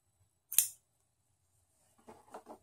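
A single sharp scissor snip cuts through string, close and crisp, followed by quiet rustling as the string is handled.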